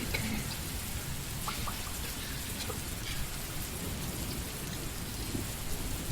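Steady rain patters on surfaces as a soft, continuous wash, with low distant thunder rumbling underneath; no voices, an even ambient bed throughout.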